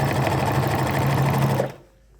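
A sewing machine runs steadily while stitching a basic skirt, a loud, continuous whirring hum close by that stops abruptly near the end, leaving near silence.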